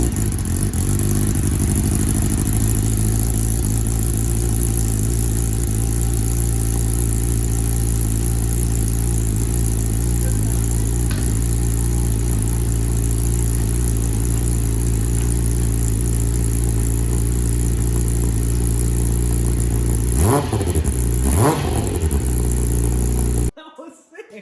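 Kawasaki ZX10R sport motorcycle from a 2021 wrecked-bike rebuild, heard from the exhaust side: a steady close engine drone with a couple of sharp revs near the end before it cuts off abruptly; people talk over it.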